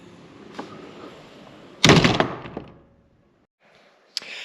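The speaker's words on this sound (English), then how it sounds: "Oh, it's quite a heavy door actually." Heavy wooden door of a thirteenth-century church being pushed open, a faint creak followed by a loud thunk and rattling clatter, then quiet before a final sharp knock.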